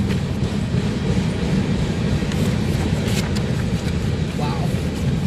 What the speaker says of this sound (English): very long train.